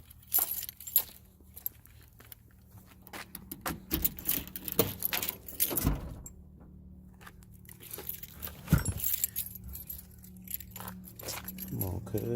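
Keys jangling in a garage during a flywheel replacement, bursts of metallic rattling and clinks in irregular clusters, close by, with someone talking between the sounds.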